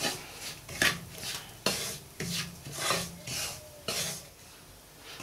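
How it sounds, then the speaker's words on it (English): Semolina (sooji) stirred in a pan over low heat while making halva, with a steady run of rasping, scraping strokes at a moderate rhythm, close up and with no talk. "Sooji in it and keep stirring"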